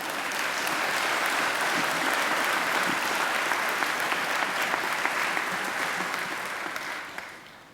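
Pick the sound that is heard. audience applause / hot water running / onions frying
audience applause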